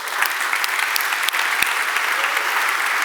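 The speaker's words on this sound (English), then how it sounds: "Please give them a big round of applause." A conference audience at the Codegarden 2019 opening keynote breaks into loud, sustained applause, a thick steady roar of clapping with a few sharper individual claps popping out.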